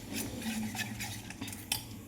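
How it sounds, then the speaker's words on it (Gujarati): A spoon stirs gram flour batter with water and salt in a bowl, soft scraping strokes repeating in a quick irregular rhythm, close and quiet, with a couple of light clinks against the bowl. "આપણે મિક્સ કરી લઈશું."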